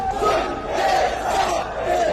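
A huge rally crowd of about 150,000 people at an Eidgah ground roars and shouts continuously, a dense, loud wall of massed voices with no pauses.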